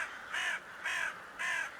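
Three separate crow caws ring out at an even, unhurried pace. Each call is harsh and moderately distant, with quiet gaps between them.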